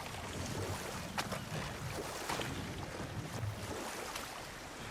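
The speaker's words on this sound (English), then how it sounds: "Waterfalls. We're close." Steady broadband rush of falling water in a God of War Ragnarök wilderness, continuous and fairly loud throughout, with a few brighter splashy bursts and no talk.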